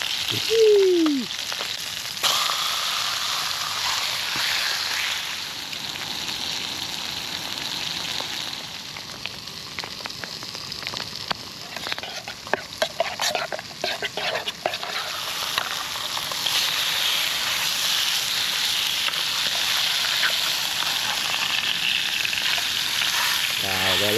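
Wagyu steak sizzles in a pan over a woodland campfire, a loud continuous hiss and crackle close up, with occasional clinks of utensils and brief stirring noises through the sizzle.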